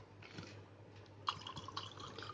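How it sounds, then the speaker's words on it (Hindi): Water is poured into Kissan lemon squash, heard as a faint, soft trickle and splash that runs for a couple of seconds and becomes a little more distinct near the end. "इसके बाद हम इसके साथ वाटर ऐड करेंगे थोड़ा सा वाटर इसमें डाल लेते हैं"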